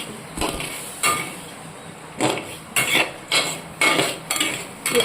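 Damp washed rice being stirred in a hot pan, a metal spoon clanking and scraping against the pan in sharp, irregular knocks, close up and without speech.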